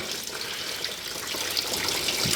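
Old coolant drains from a diesel radiator in a steady, continuous splashing trickle, close and moderately loud with no talk.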